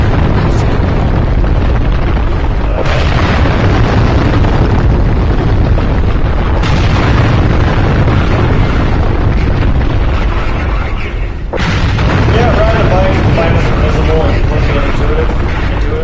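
Gunfire and explosions from a mech in the video game Steel Battalion: dense, loud broadband booms and bursts roll continuously, with sharp onsets near 3, 7 and 11.5 seconds, and a faint voice-like trace toward the end.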